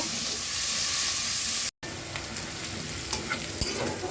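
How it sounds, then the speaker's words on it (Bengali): Onion and ginger frying in mustard-oil-free pan cooking, a loud close steady sizzle and hiss that cuts out briefly, then returns with scattered stirring clicks and scrapes, no voices. "পেঁয়াজ আদা ভেজে নিয়েছি"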